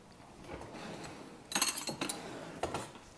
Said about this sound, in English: And just give that a quick stir